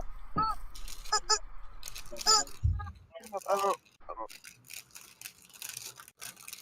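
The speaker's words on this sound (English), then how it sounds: "Why am I hearing a duck?" A honking, duck-like squawk comes through a call participant's mobile, repeating in uneven bursts and mixed with voices talking over it on the call.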